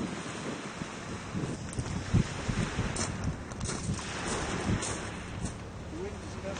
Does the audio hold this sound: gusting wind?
yes